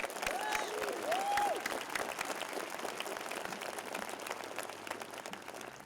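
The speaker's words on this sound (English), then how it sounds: "let's give him a round of applause." A crowd at a high school graduation ceremony applauds steadily, a dense wash of clapping that fades slightly over several seconds, with a brief whistle near the start.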